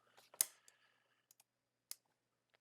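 A few sharp keystrokes on a computer keyboard, one louder tap followed by scattered quieter clicks with gaps between them, close and otherwise quiet.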